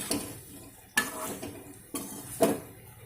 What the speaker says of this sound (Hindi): तो अब अच्छे से इनको मिक्स दे देंगे।